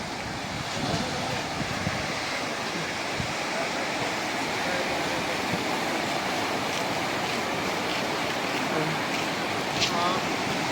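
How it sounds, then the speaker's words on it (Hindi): Steady broadband wash of surf rolling onto the shore, continuous and fairly loud, with wind buffeting the microphone throughout. "હવે અહીંયા દરિયો તો ભરેલો છે"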